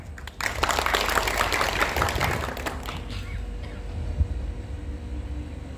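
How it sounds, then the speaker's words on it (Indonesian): A crowd at a scout camp gathering claps together in a dense burst of applause that fades out after about three seconds, leaving low outdoor background noise. "Tepuk tangan."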